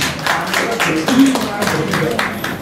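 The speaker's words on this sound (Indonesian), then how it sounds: "Tepuk tangan ke Bawaslu." Audience clapping for Bawaslu, the election supervisory body of Central Java province, scattered claps close by across a couple of seconds while a speaker talks over them.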